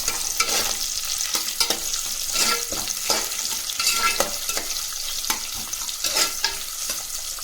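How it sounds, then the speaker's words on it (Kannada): Curry leaves and two lengthwise-sliced onions fry in a pan, giving a steady close sizzle broken by regular scraping stirs, with no talking. "ಈಗ ಇದು ಚೆನ್ನಾಗಿ ಫ್ರೈ ಆಗಬೇಕು."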